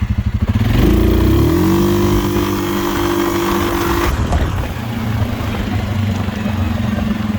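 A 2022 Suzuki King Quad 750 ATV cruising across a field at about quarter throttle, its loud engine droning close by and rising in pitch early on before holding a steady note.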